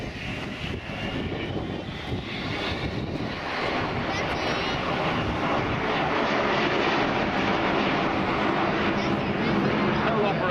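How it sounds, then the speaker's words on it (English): Avro Vulcan bomber XH558 in a slow, very low fly past at the 2012 Clacton Air Show, a loud, sustained, roaring jet engine rumble filling the air with wind buffeting the microphone. "We see her coming by in a very low fly past"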